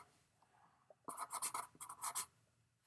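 Pen or marker writing by hand for an ideal gas law equation, a quick burst of short scratchy strokes after a quiet moment, close and fairly faint.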